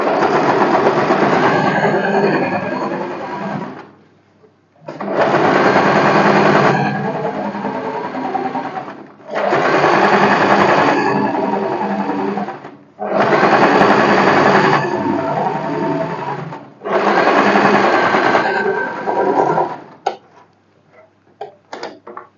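A sewing machine stitches the sleeve of a boatneck blouse with puff sleeves, running in five steady, close bursts of about three seconds each with short pauses between them.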